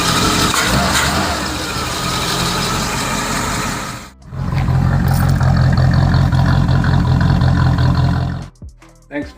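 A Camaro V8 with a newly fitted fuel regulator runs close by, holding a loud, rough rumbling idle, then dipping briefly before revving back up to a sustained roar and cutting off sharply near the end.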